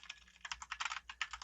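Quick, light keyboard typing, a steady run of small clicks close by with brief pauses between bursts, no talking.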